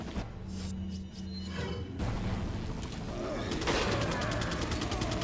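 Gatling gunner firing in Resident Evil 4, a burst of rapid mechanical gunfire building after a brief quieter stretch, loud and continuous with dense rattling repeats toward the end.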